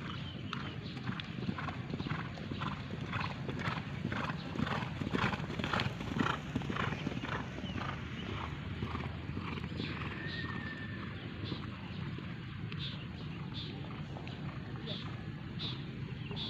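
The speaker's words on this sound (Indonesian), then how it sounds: "ini ada 2 kuda juga yang sudah berlatih" Two horses trot with rhythmic clip-clop hooves and an occasional whinny during training at a traditional Gayo horse racing arena in Central Aceh, someone speaking over the steady hoofbeats.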